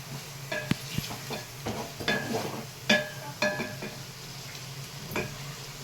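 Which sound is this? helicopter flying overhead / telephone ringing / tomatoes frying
tomatoes frying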